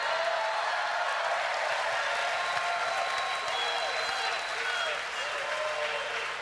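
Steady, dense applause from a crowd at Brian Schatz's election victory speech, sustained evenly throughout with no break.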